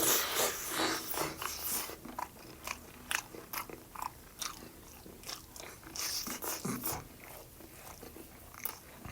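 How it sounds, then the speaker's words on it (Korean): Up close, someone eats a boiled egg sprinkled with seasoned salt, with soft repeated bites and wet chewing in an uneven rhythm, quiet and with no talking. "맛소금을 이용해서 한번 계란을 먹어보도록 할게요."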